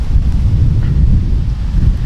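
Loud, rumbling wind buffets the microphone continuously, a low blustery roar with no talking.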